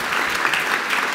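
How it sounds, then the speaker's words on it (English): A conference audience at PyCon UK bursts into a short, dense round of practice clapping, loud and continuous for about a second. "So can we have a practice of a big round of applause,"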